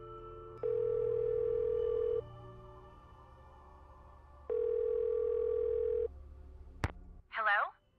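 A telephone in the Nancy Drew video game The White Wolf of Icicle Creek is dialed: two long steady ringback tones separated by a pause, then a click and a brief burst of voice at the end.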